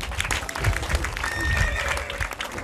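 An audience at a Bagamoyo secondary school bicycle handover event breaks into a steady burst of hand clapping, dense and fairly close, with a few voices mixed in.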